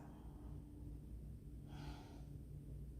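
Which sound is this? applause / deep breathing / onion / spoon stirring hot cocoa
deep breathing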